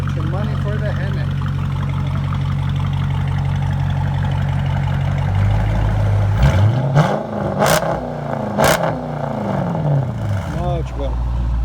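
A 2009 Dodge Challenger R/T with a 5.7L Hemi V8 and straight-pipe dual exhaust idles with a deep, loud rumble, then blips the throttle in a few quick revs as voices talk over it.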